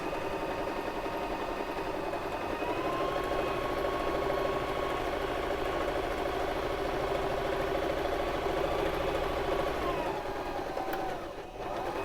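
A Baby Lock Zest sewing machine stitching straight down the side of an apron piece, a steady close mechanical hum with fast even needle rhythm that runs for about ten seconds and then stops.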